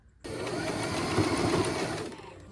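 Sewing machine stitching fabric for a halter top made from a scarf, a close, steady whirring run starting abruptly and stopping after about two seconds.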